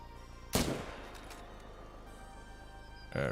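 Single sharp rifle shot aimed at a black bear in theHunter: Call of the Wild, a loud crack at about half a second with a fading echo, then quiet ambience and a second burst of sound near the end.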